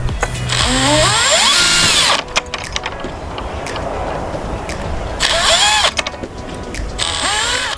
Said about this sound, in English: now I'm going to drill these through.